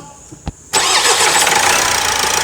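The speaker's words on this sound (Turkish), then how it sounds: "Şimdi marşına basacağız arkadaşlar." An Opel Astra J 1.6 CDTI diesel engine cranks and catches abruptly, then settles into a loud, steady idle with a rough, clattering diesel character.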